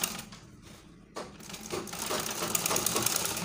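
A sewing machine stitching an invisible zipper on a skirt runs in a quick mechanical patter, starting after a brief pause and settling into a steady whir with no talk over it.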